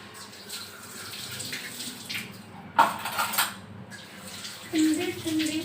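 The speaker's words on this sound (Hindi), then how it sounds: "बर्तन में साथ साथ में ही धो लेती हूँ सारे" Dishes are washed under a running kitchen tap: a steady stream of water with a couple of louder splashes and faint clinks of utensils, close and continuous.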